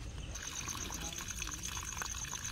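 Irrigation water flows through a plot of soil planted with okra, making a soft, continuous trickle and gurgle that stays fairly faint throughout.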